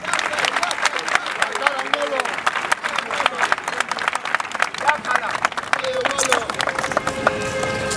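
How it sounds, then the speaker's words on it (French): A crowd applauds guests at a UNC political gathering, the clapping dense and steady throughout, mixed with crowd noise and a voice talking over it. "Saluer, applaudissez pour eux s'il vous plaît."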